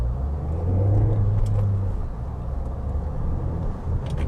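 A Nissan X-Trail diesel engine runs with a low, gruff rumble while driving, heard from inside the cabin, steady and fairly quiet with a brief rise in engine note.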